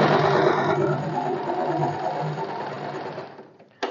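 A sewing machine runs steadily, double-stitching the cup seam of a katori blouse, its continuous close whir lasting a few seconds before slowing and stopping, with no talk.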